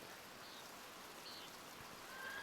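Steady, soft rainfall in the medieval adventure game Pentiment: an even, diffuse wash of drops pattering on the ground, faint and continuous throughout, with no voices.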